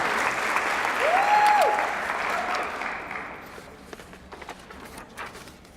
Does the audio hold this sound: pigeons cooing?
no